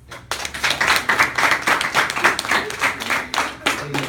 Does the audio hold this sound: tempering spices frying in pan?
no